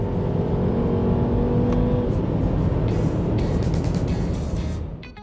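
A MINI Countryman Cooper S ALL4 with a 2-liter engine accelerates in sport mode, a loud steady engine drone heard from inside the cabin that rises and then fades slightly at the end, with no talk.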